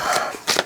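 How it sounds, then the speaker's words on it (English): Tarot cards shuffled by hand in a short, close burst of papery riffling that comes in two quick rustling pulses with no talking. "lost the ability to shuffle in any normal way"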